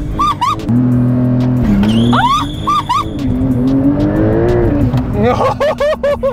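A Porsche Turbo S doing a launch-control start with traction control off roars loudly and steadily, its engine note rising and falling. Sharp chirps and squeals cut in near the start and end, and voices can be heard underneath.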